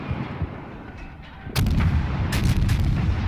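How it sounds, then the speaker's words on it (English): Warship guns firing in World of Warships, with a Russian tier 3 cruiser and battleships engaged. A quieter stretch of low rumble gives way to a loud, sharp salvo about halfway through, then a second blast follows. "He's got two battleships plus me firing at him."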